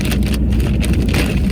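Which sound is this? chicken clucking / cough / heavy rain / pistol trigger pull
heavy rain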